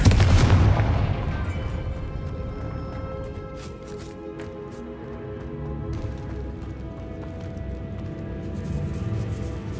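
A Confringo blasting curse from Hogwarts Legacy goes off as a loud booming burst at the very start, its rumbling blast then fading into a sustained low roar and ambient game music with no talking.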